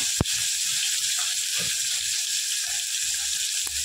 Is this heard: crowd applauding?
no